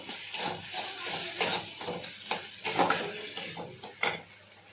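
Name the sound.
sautéing ginger paste for prawn malai curry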